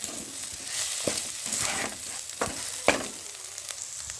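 Boiled potatoes sizzle steadily in a pan with hot oil, a constant frying hiss broken by a few sharp scrapes and clinks of a spoon stirring, with no talking.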